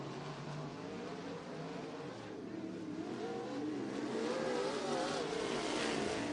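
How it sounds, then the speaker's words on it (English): USAC/CRA 410 sprint cars race around Santa Maria Speedway, engines droning from a distance and swelling louder as revving rises and falls, a steady roar of the field on the dirt oval. "410 Sprint Cars. Back on track."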